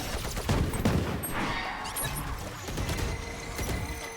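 Gunshots in the tactical shooter Valorant come as a flurry of sharp cracks and impacts near the start, followed by a busy wash of combat noise and clatter at steady loudness.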